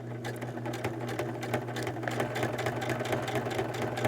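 A sewing machine stitching through a paper journal page runs with a steady, close mechanical whir and rapid rhythmic needle ticking, unbroken from start to end with no talking.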